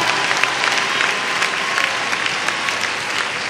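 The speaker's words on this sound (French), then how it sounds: "Applaudis Jésus, applaudis." A church congregation at a youth worship service applauds loudly and continuously, with a thick wash of many hands and sharp individual claps standing out throughout.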